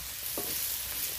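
Chickpeas being stirred in a pan with ground coriander, cumin and red chili powder, a brief soft scrape over a low steady sizzle, alone and without talk.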